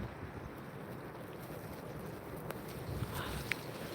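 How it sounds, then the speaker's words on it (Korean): Strong wind blows outdoors across blooming spirea at a fruit theme park in Yeongdong, a steady roaring rush buffeting the microphone with occasional gusts and faint rustles, no talking. "바람이 너무 많이 불어요"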